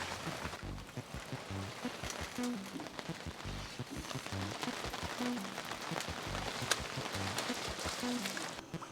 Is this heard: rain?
yes